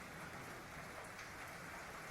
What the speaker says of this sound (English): It is raining, you know.